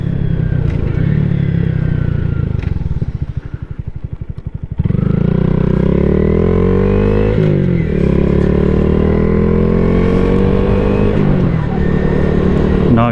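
A 2022 Honda Grom motorcycle rides along, its small engine droning loud and close with wind buffeting. Revs dip briefly, then climb again through shifting gears. Someone talks over the engine.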